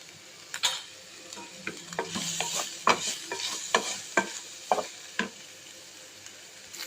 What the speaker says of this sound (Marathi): आता आपण त्यामध्ये उकडलेले सोयाबीन घालू.